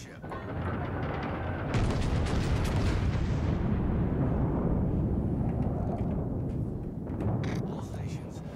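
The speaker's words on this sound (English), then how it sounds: "Concentrate fire on the enemy warship" Heavy artillery fire from a warship in the video game World of Warships, a loud sustained roaring barrage of booms that swells, holds and slowly fades, with a brief renewed burst near the end and a voice speaking in the background.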